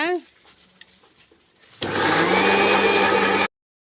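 A mixer grinder coarsely grinds cassava batter in a loud, steady whirring burst lasting about a second and a half before stopping abruptly. A voice talks quietly before the motor starts.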